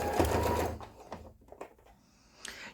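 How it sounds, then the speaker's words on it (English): A sewing machine runs in a steady whirring burst as it stitches a polyfill-stuffed fabric animal, then slows and stops, leaving faint handling noises. "then you can machine sew it. I think that's what I'm going to do"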